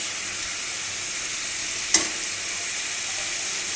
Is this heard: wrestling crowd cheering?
no